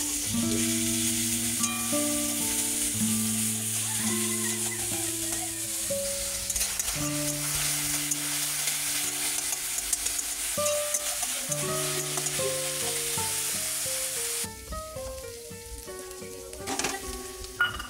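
A paste of ginger, garlic, cumin and bay leaf fries in a pan, giving a soft, steady sizzle with light stirring. It stays underneath louder, sustained background music throughout.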